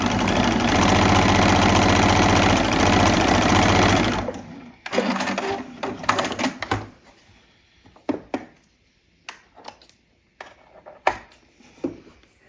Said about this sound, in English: You can just line it up somewhere on the side of your foot of your machine.